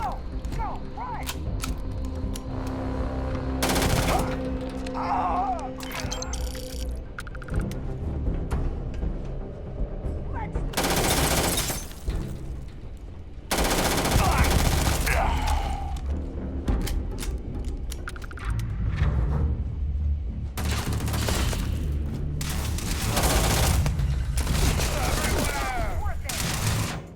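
Bursts of gunfire crack during a combat encounter in the video game Starfield, loud repeated volleys and mechanical clatter mixed with game sounds, while voices talk throughout.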